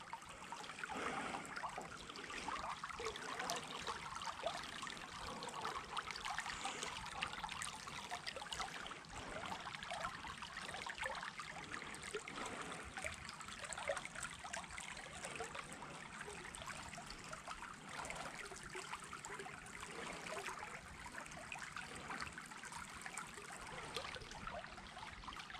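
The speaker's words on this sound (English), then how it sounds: "and down along this creek here." Spring water from the Santa Cruz Mountains trickles along a creek below a reservoir, a faint, steady babble with no voices over it.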